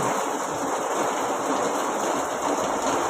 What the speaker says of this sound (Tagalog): Yung ganitong ulan.